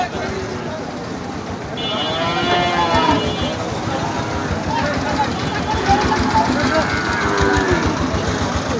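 At a busy cattle market in Betaga, Bagerhat, cattle low amid dense crowd chatter and background engine noise, with drawn-out moos rising now and then over the steady din.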